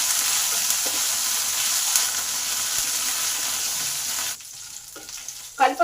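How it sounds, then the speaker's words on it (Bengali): Curry leaves fry in hot oil after asafoetida, a loud, dense sizzle that holds steady for several seconds, then drops off abruptly into quieter crackles and a few stirring clatters near the end. "কারি পাতাগুলোকে একটু ভালো করে ভেজে নিতে হবে"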